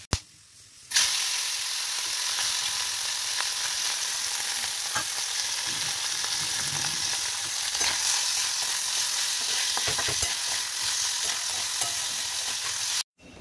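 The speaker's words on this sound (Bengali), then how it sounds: "মৌরলা মাছটা ভাজা হচ্ছে।" Small mola carplet fish fry in a pan, a constant loud close sizzle with popping crackles and light stirring scrapes throughout, no speech.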